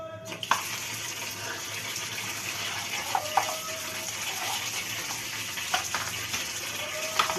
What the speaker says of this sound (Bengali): ইলিশ মাছ আর এই যে এখানে পোনা মাছ, এগুলো ধুচ্ছি